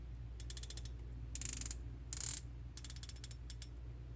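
Clicking turrets on an Athlon Talos BTR 1-4x24 rifle scope, each click one-fifth of a mil: close, crisp ratcheting clicks in quick bursts of several detents, with a couple of louder, longer runs partway through.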